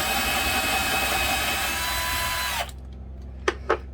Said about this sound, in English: So we will put a pilot hole right here.